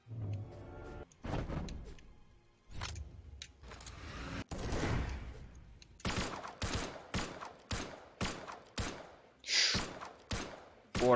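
Pistol gunfire in a video game, a string of sharp, loud shots, sparse at first and then in a quick rhythmic volley near the end, with a bright electronic tone briefly cutting in.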